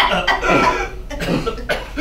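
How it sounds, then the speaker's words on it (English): Harsh, repeated coughing fits in a smoke-filled newsroom, several loud bursts close by in quick succession with a strained, rasping quality. "More coughing and shouting."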